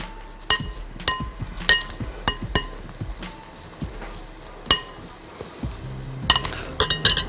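A spoon stirs a plant protein salad in a bowl, giving a series of sharp, close clinks and taps against the bowl at an irregular rhythm, with soft rustling of the mixed ingredients between strikes.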